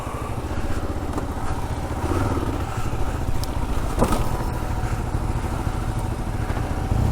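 A Kawasaki KLR650 motorcycle ridden off-road up steep hills and sand, its engine droning loud and close throughout with a slight rise in the middle and no talking.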